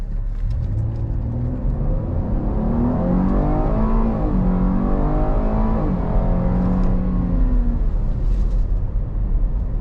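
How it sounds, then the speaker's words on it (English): A 2024 Chevy Blazer V6 in sport mode pulls hard under throttle, its engine note climbing through rising harmonic sweeps with gear changes, a steady loud cabin drone lasting about ten seconds with no talking. "We will put it into our sport mode and just give it some gas and see what happens."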